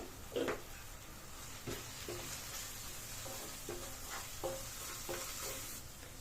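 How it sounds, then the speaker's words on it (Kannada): Tomato with coriander, chilli, turmeric, pepper, garam masala and cumin powders is stirred in a hot frying pan for an egg masala gravy. A spatula scrapes at a steady rhythm over a soft, continuous sizzle, close up, with no talk. "ಧನಿಯಾ ಪುಡಿ ಅಚ್ಕಾರದ ಪುಡಿ ಅರಶಿನ ಪುಡಿ ಪೆಪ್ಪರ್ ಪೌಡ್ರು ಗರಂ ಮಸಾಲ ಜೀರಿಗೆ ಪೌಡ್ರು ಎಲ್ಲದನ್ನು ಹಾಕೊಂಡು ಚೆನ್ನಾಗಿ ಮಿಕ್ಸ್ ಮಾಡ್ಕೊಳ್ಳಿ"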